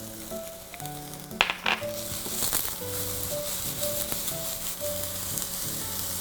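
Fried rice sizzles and crackles in an oiled pan, a soft steady frying hiss with a few clatters from stirring, faint beneath quiet background music.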